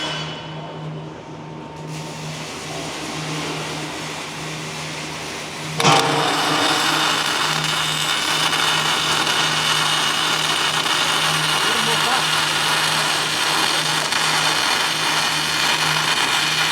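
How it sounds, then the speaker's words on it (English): MIG-style welding bead being laid at a ranch welding test: a steady crackling, buzzing hiss that starts abruptly partway in and runs continuously and loud to the end, with a low electrical hum throughout. "All right, just weld."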